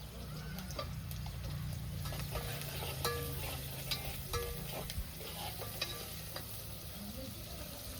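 Onions frying in oil in an iron pan on a new iron wood stove, with a steady close sizzle and scattered scraping clicks of a spoon stirring throughout.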